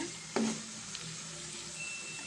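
Cluster beans fry in a pan over a low flame with a soft, steady sizzle. A brief clatter comes near the start.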